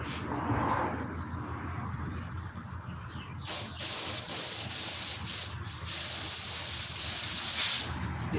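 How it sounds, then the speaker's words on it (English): Paint hissing from a spray gun in a steady, loud close-up burst lasting several seconds with a few brief breaks, after a quieter stretch of background noise. "Let's see if this stuff will spray."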